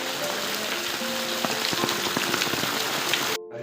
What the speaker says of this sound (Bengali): যে তুমুল বৃষ্টি আর হচ্ছে